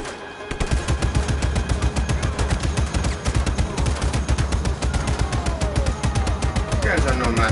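Sustained rapid gunfire in the Just Cause 3 video game, a loud close machine-gun rattle of steady repeated shots that continues almost without pause, with faint voices underneath.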